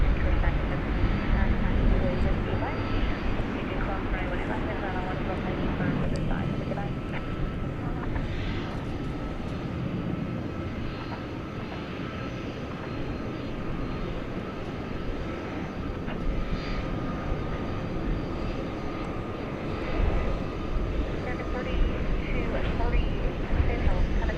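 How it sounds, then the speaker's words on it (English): Qantas airliner in Yam Dreaming livery arriving at DFW Airport at night, a sustained rumbling jet roar that swells and eases slightly over the stretch, with faint voices underneath. "And here comes the Qantas Yam Dreaming livery"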